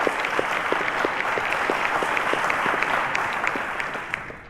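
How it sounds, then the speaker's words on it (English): A studio audience at a televised maths quiz show claps steadily, dense and fairly loud, sustained throughout and tapering slightly at the end. "A round of applause to them."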